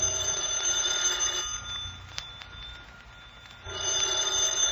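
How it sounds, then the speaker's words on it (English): A telephone rings in an old-time radio crime drama set in a room with a radio playing low, a repeated bell-like ringing over a steady background hum, moderately loud and without speech. "when the phone rang"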